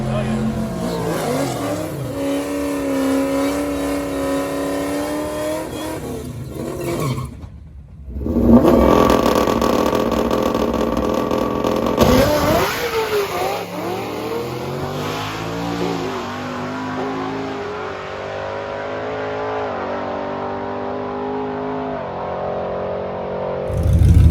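A turbocharged drag car with an upgraded rotor pack, running 32 psi of boost, revs loudly with rising and falling engine pitch, a brief cut-out midway, then a harsh surge of power that continues near and strong to the end.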